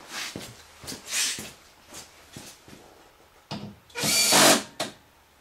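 Power drill driving screws while fitting a windshield on a Polaris RZR side-by-side, several short whirring bursts followed by one longer, louder run near the end.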